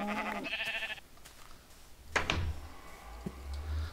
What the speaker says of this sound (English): Okay, brown sheep.